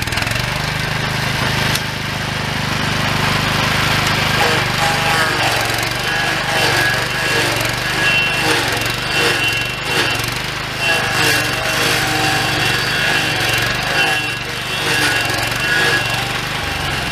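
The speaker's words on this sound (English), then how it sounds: "My brother rented this stump grinder at Home Depot." A rented stump grinder, noted as very dull, runs steadily with a loud, continuous engine drone and grinding chatter throughout, close by and with no clear talk.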